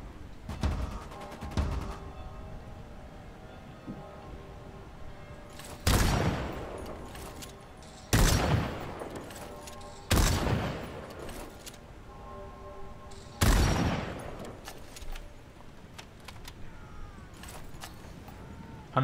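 Gunfire in the Bloodhunt video game: several sharp bursts of rapid shots over a steady game background, loud and close, with a rattle of quick shots near the start.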